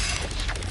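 A brief, loud burst of fiery whooshing crackle as the Incendio fire spell is cast in Hogwarts Legacy on PS5. It is a single short blast of under a second.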